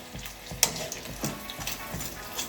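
Scotch eggs fry in a pan, giving a low, steady sizzle with soft crackles and a few scattered pops and light clatters. No one speaks.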